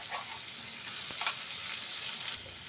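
A ground spice paste frying with melted tomato in a pan for a spicy crab curry, giving a steady, close sizzle with brief stirring scrapes and no talk.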